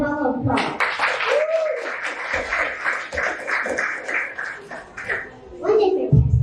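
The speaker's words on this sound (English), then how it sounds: "Please give our performers another round of applause" An audience at a preschool open house applauds performers for several seconds, with children's voices around the clapping and speech at the start and end.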